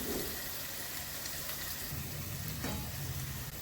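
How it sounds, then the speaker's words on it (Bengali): Onions sizzle and crackle steadily in white oil in a hot pan with garlic, salt and turmeric, a continuous close frying hiss with occasional light stirring sounds. "পেঁয়াজটা ভাজা হবে"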